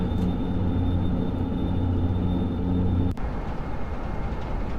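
An airplane in the Prepar3D flight simulator game flying through strong wind, a steady droning engine hum with a loud rumble that cuts off abruptly near the end and leaves a rougher, noisier roar.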